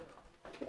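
A domestic pigeon coos softly in a brief, faint low murmur.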